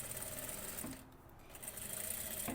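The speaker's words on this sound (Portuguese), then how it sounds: "Agora aqui na máquina a gente vai passar uma costura com um pezinho de máquina" Sewing machine running steadily as it stitches a seam on a dress, a continuous close whirring drone that pauses briefly midway, then resumes.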